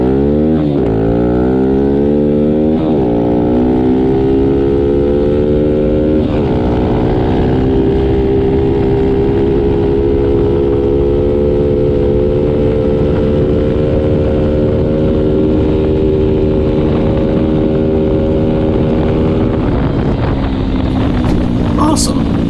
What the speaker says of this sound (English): After all of that, the bike runs great, and now it'll actually pull all the way to redline.